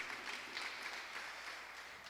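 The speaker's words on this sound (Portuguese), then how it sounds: "Salva de palmas para Jesus." Congregation in a church service applauding, a steady, faint wash of clapping heard from a distance, with no break over its two-second span.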